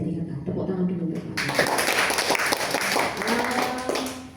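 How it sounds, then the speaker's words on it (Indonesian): An audience at a PPPK civil-servant orientation seminar breaks into hand clapping after a quieter opening, a busy patter of claps mixed with voices talking in the room. "Tepuk tangan dulu Pak."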